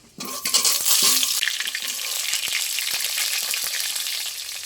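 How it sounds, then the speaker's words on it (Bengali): Cut potatoes fry in hot oil with whole spices such as cumin, peppercorns and mace, starting with a sudden sizzle and settling into a steady, close frying hiss with a few light stirring taps. "ফোড়নের সাথে আলুটা আমি একটু ভালো করে ভেজে নেবো।"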